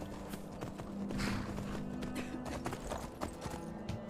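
Horse hooves clip-clop in a steady, quick rhythm as a steed runs in the video game Skyrim, close and fairly clear over a low background hum.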